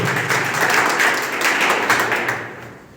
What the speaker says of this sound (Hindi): जबरदस्त ताली